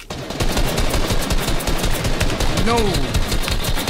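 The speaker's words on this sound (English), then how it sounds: "this kid is shooting everywhere" Fortnite gunfire, a rapid, steady stream of loud close shots hammering without pause for several seconds, with a voice shouting briefly over it.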